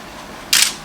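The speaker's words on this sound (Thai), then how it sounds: "เห็นไหมเสียงชัตเตอร์ นี่ครับนี่คือ D700 นะ" Nikon D700 camera shutter firing once, a single sharp, close mechanical click lasting a fraction of a second against a quiet room background.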